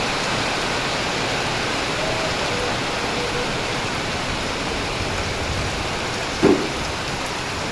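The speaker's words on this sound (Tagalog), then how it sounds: "Lakas ng ulan." Heavy rain pours down in a dense, steady hiss on surfaces outside a house, with one brief knock partway through and no talking.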